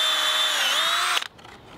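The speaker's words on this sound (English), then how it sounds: "This is a specialised drill bit for mushroom log cultivation." A power drill fitted with a specialised 12 mm mushroom-log cultivation bit with a depth stop bores into a wooden log, whining loud and steady at close range before it abruptly stops.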